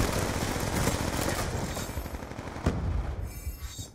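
Gunfire in the Black Ops 2 shooter, a dense, sustained rattle of rapid shots filling the scene with one sharp crack near the end as the barrage thins out.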